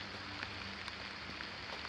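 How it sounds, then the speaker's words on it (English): Steady rain falls on a parked vehicle and its surroundings, a dense, even hiss with occasional heavier drops, faint and continuous with no voices. "It's raining pretty damn good too."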